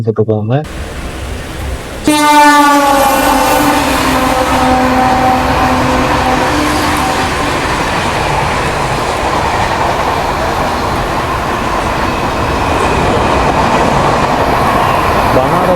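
The Banaras–Kanyakumari weekly express rushes past a station, starting with a loud horn blast and followed by a sustained, close rumble and roar of rolling carriages.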